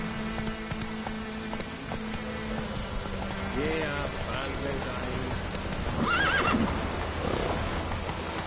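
The horse Roach in The Witcher 3 whinnies twice over steady rain and clip-clopping hooves, a mid-distance neigh followed by a louder, higher one.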